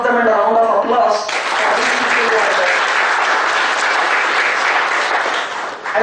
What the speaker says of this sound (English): So just a salute to all of them and a round of applause.